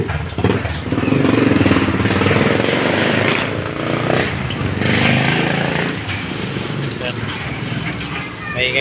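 Tricycle engine running and passing by outdoors, a steady mid-loud rumble rising around the middle and fading, with people talking over it.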